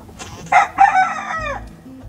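A white-shanked seal rooster crows once, a loud drawn-out call with a rising start and a falling tail, clear and fairly close, with quiet background afterward.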